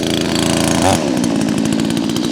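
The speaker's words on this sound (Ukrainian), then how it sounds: "Якщо взяти таку бензопилу" A petrol chainsaw engine runs loud and close, with a steady buzzing drone that briefly revs up.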